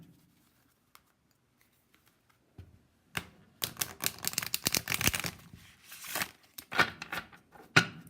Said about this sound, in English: a nice clean riffle shuffle